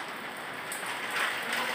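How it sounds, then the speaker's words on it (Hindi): Heavy, stormy rain falls steadily as a dense, even hiss with a slight swell partway through, with no voices. "बारिश का पानी बहुत तेज़ तूफानी बारिश जिसको बोलते हैं वो हो रही है"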